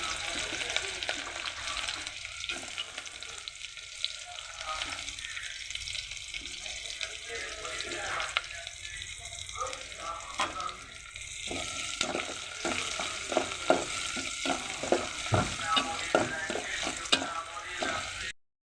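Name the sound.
chopped onions frying with dried chili, cumin, bay leaf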